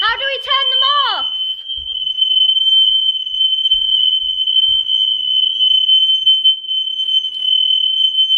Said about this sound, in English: The alarm went off, but my god, I've never heard a noise like it.